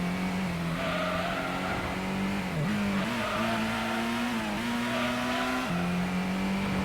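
A race car lapping in Gran Turismo on the original PlayStation during an endurance race, its engine droning loud and continuous with pitch dipping and climbing through gear changes and corners, no talk over it.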